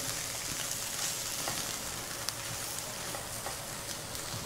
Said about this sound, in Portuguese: agora, nós vamos dar essa boa fritadinha aqui na nossa cebola